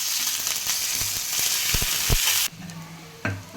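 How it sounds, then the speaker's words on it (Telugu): Onions with ginger garlic paste and salt fry in a pan for mutton keema, giving a steady broadband sizzle with a few sharp spoon knocks and stirring scrapes, cutting quieter near the end with a last clink. "ఒక స్పూన్ జింజర్ గార్లిక్ పేస్ట్ కూడా వేసి కొద్దిగా సాల్ట్ వేసి అంతా బాగా వేయించుకోవాలి"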